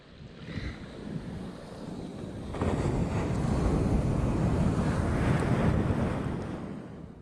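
Ocean waves wash onto Anini Beach in Hawaii as a steady broadband roar. The surf swells louder partway through, with wind buffeting the microphone and no voices.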